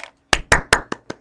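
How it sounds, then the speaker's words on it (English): Five light, spaced hand claps in a classroom, a slow, polite golf clap that is close and crisp with no talking. "Golf clap"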